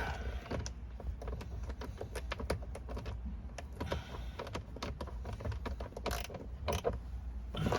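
Screws being tightened under the trim of a 2003–2007 Nissan Murano: close, irregular ratcheting clicks and small mechanical creaks, quiet and busy, with no talking.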